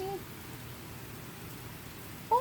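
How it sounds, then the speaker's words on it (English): Steady rain falls outdoors near a house as a continuous hiss of even, moderate loudness, with a brief voice-like sound at the start and end. "Oh, and now it's raining on me."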